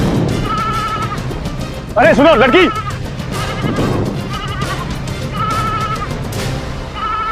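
A sheep bleats loudly in one wavering, drawn-out call nearby, with people speaking before and after it and a repeated high tone running in the background.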